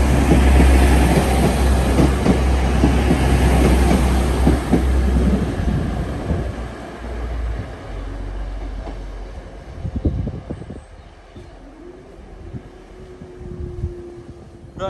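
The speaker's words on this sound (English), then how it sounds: "here's our next train to York" A passenger train to York rumbles past loudly and close, its heavy roar filling the first few seconds before fading into a quieter, steady hum with faint rail clatter.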